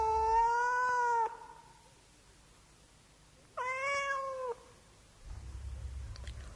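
A cat meows twice, each call a drawn-out, wavering yowl about a second long, separated by a quiet pause, fairly close and clear, with a soft rumble of background noise at the end.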